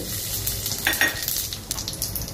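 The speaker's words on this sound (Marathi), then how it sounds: "तेल तापत ठेवलेलं आहे, त्यामध्ये मोहरी टाकली आहे" Mustard seeds and cumin sizzle in hot oil while broccoli masala is being cooked, a close, steady crackling hiss with light stirring and faint utensil clinks.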